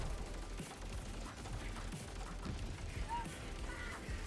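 Sustained primary-weapon gunfire in Helldivers 2 rattles on throughout, a dense, steady burst of shots layered with mechanical clatter and game noise.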